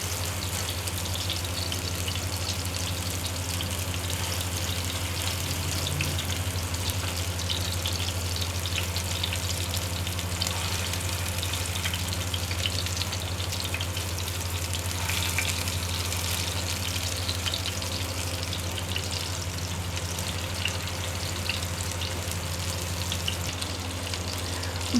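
Chapli kebabs fry in a pan over a low flame, with tomato on top, giving a continuous dense sizzle and crackle with a steady low hum, no voices.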